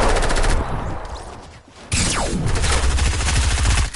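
Rapid automatic gunfire bursts in the video game Fortnite, loud sustained rattling volleys before and after a brief lull, with a whooshing sweep in the middle.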